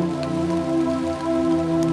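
Rain patters on a surface outdoors during a roe buck hunt in Denmark, a constant close rushing texture over a steady low hum, with no voices.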